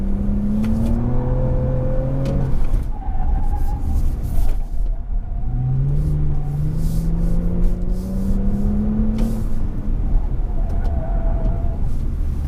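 A 2020 Toyota Camry TRD accelerates in sport mode, its engine rising in pitch as it holds a low gear, dropping after each shift, then climbing again, loud and steady from inside the cabin.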